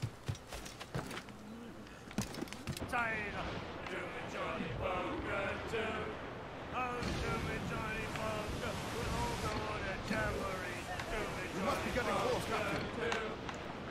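A sailing ship ploughs through ocean waves in Assassin's Creed IV Black Flag, with steady washing surf and wind rushing throughout, a few knocks at the start, and someone talking over it.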